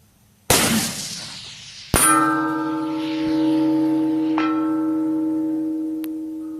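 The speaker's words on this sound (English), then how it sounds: "with no muzzle brake, this thing is shooting, like it's shooting" A rifle without a muzzle brake fires a 183gr Sierra MatchKing: a sharp, loud crack, then about a second and a half later a bright metallic clang that rings on with a long, slowly fading hum.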